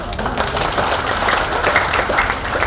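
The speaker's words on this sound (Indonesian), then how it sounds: "Boleh kasih tepuk tangan dong" An audience applauds at an Indonesian Doctors Association fun run event for its 75th anniversary, with steady, dense clapping holding at an even level throughout the short stretch.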